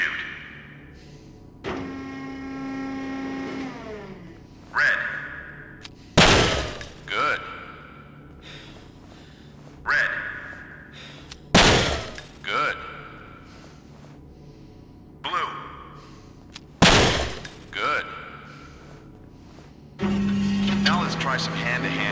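Gunshots in the original Xbox shooter Breakdown, a series of sharp loud single shots spaced every few seconds with ringing echoes, separated by quieter game tones and an electronic voice talking.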